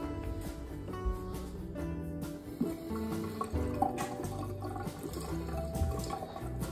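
Water flows through freshly connected household plumbing after the supply is turned on, a steady rushing and trickling with faint drips, moderately close, with background clatter and no speech.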